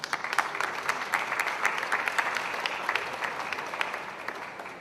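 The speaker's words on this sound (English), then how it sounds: "another round of applause for our corporate sponsors" Audience applause at an opening ceremony, sustained clapping from a crowd with sharp individual claps standing out, fading slightly toward the end, no talk over it.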